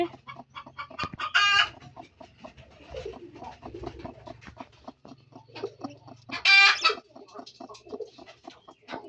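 Hens clucking and cooing close by with bursts of shrill peeping from newly hatched chicks still emerging from eggs, a busy, continuous mix of bird calls.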